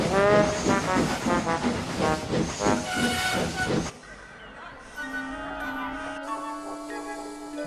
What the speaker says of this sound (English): Express train coming through!